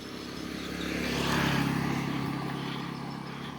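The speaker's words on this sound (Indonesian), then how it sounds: "Oh bentar, ada motor guys." A motorcycle engine drones past on an outdoor street, swelling to a peak midway and then fading as it moves away, with no talk over it.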